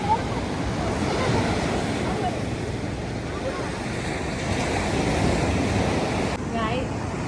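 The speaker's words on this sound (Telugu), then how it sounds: "ఇప్పుడు మనం లైట్ హౌస్ దగ్గర ఉన్న బీచ్కి వచ్చేసినాం" A continuous wash of surf and wind on an open beach near a lighthouse, steady and fairly loud, with faint voices mixed in.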